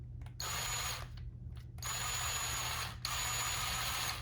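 A power tool whirs in steady bursts with brief pauses, running the gasket bolts down on a Honda CRF250L dirt bike, close and fairly quiet over a low constant hum.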